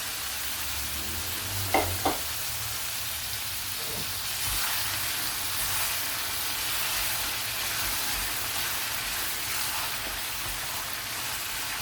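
A kilo of chicken mince frying in a pan makes a steady, soft sizzle like light rain, with a couple of brief clinks near the start and no talking.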